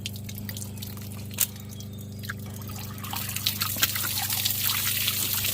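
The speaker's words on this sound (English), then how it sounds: "you went in and turned the water pump on. That forcing the water out?" Water trickles and splashes from the drain of a Keystone Arcadia RV hot water heater while the pump forces it out, a steady dribbling flow over a constant low hum that grows busier toward the end.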